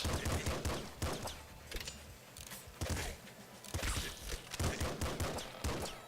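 Rapid gunfire from the video game Nuclear Throne comes in dense, loud bursts of overlapping shots and impacts, continuous across the whole stretch with no talking.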